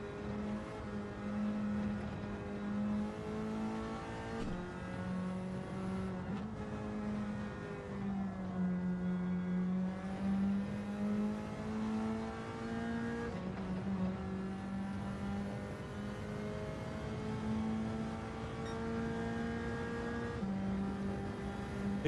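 Race cars in Gran Turismo 7 during a league race, engines droning steadily and loudly with rising and falling revs through a tight section, continuous and without speech.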